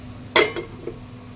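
A lid is set onto a cooking pot of boiling amra (hog plum) with one bright metallic clank, followed by a couple of fainter rattles as it settles, close and otherwise quiet.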